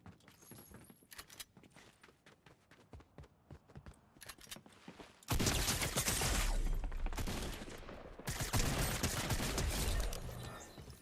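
Rapid bursts of gunfire in a Fortnite-style shooter, sparse clicks and footsteps at first, then two long loud dense stretches of rapid shots close up, no talking.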